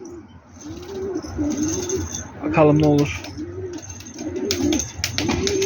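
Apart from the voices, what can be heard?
pigeons cooing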